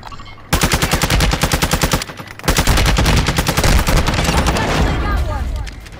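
Rapid automatic gunfire from a Call of Duty Warzone match on Ashika Island, loud, close bursts with a brief pause before a second long volley, with faint speech underneath.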